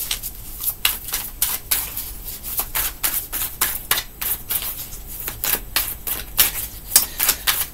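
Tarot cards being shuffled and drawn during a reading make rapid, close, crisp riffling bursts that repeat in an irregular rhythm, with no talk.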